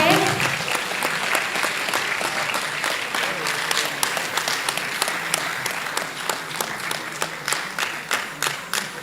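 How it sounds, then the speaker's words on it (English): A school debate audience applauding Ntare School as the winners: sustained crowd clapping fills the room for about nine seconds, with a voice speaking over it near the start and the rhythm growing more distinct toward the end. "Now that is how they clap."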